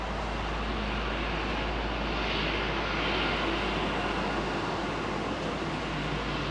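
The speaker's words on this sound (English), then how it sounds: "you can hear those Rolls-Royce engines." Rolls-Royce Trent 800 engines on a Boeing 777 spool up at Heathrow in fog, a steady loud broadband jet roar that swells gently midway and holds, with no voices over it.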